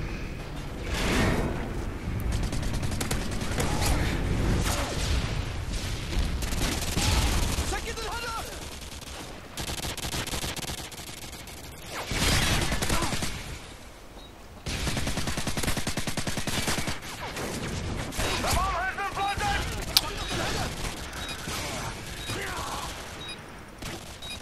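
Sustained gunfire rattles through a Demolition match on the Scrapyard map in Call of Duty: Modern Warfare 2, with bursts of rapid automatic shots and explosions, loud and close, while someone talks over much of it.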